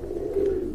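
A single short throaty coo from a large Mili racer pigeon, close and clear against a quiet background.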